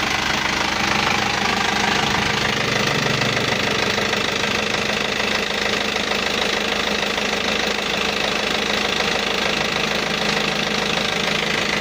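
Diesel engine of an Isuzu Elf NLR 55 truck, recently overhauled, idling steadily close by with a dense, continuous knocking clatter and low rumble for the whole stretch, no talk over it.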